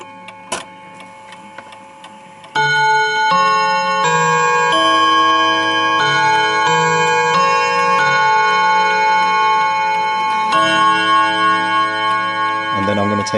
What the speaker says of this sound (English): I'm going to let you listen to the 1/2 past chime.